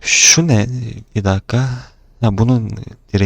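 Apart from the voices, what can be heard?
None of the usual background noises is heard.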